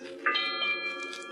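A ship's bell aboard a river steamer strikes eight bells, ringing near and clear in sustained metallic tones that linger and overlap.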